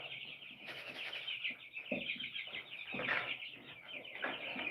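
Chickens by a backyard coop cluck and call in short, irregular bursts, close and fairly soft, with scattered higher chirps over a quiet outdoor background.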